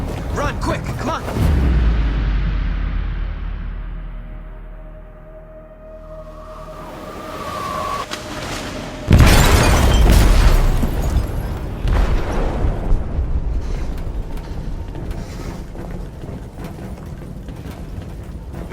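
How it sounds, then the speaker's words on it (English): In Detroit: Become Human, an explosive detonates in a ship's hold. A deep, heavy boom strikes after a low rumble. Loud roaring, rattling and creaking debris follow, and voices are heard in the scene. "They detonated an explosive in the hold."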